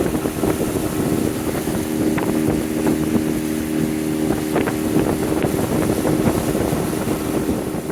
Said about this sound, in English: I'm going to take River for a boat ride.